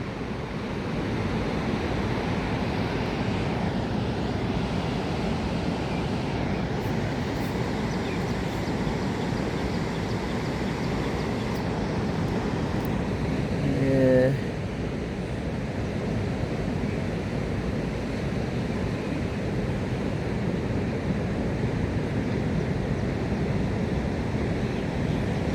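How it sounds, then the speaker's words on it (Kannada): Sea waves roll in along a seashore in a steady, continuous wash of surf with wind noise on the microphone, loud and unbroken throughout, with one brief louder swell midway. "ನನಗಂತೂ ಸಮುದ್ರದ ವೀಕ್ಷಣೆ ತುಂಬ ಖುಷಿ ತಂದು ಕೊಟ್ಟಿದೆ."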